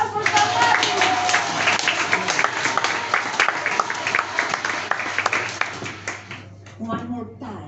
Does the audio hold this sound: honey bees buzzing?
no